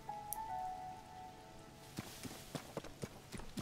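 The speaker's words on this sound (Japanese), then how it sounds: "雨がうぜえ。" Steady rain falling in the video game Zelda: Tears of the Kingdom, a faint continuous patter with a tonal chime early on, later joined by quick footsteps running across the ground.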